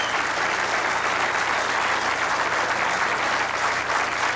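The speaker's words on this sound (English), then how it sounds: "And well-deserved applause, Ava." Arena crowd applause after a women's nine-ball pool match, a steady unbroken roar of clapping at even loudness throughout.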